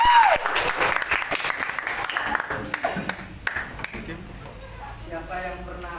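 An audience in a classroom-style session claps together in a loud, dense burst at first, then the clapping tapers into scattered hands, with voices talking near the end.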